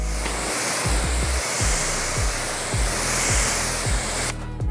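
Steady broadband hiss of water spraying onto car paint to rinse off a spray sealant, loud and continuous, with soft periodic low thumps underneath, cutting off abruptly near the end.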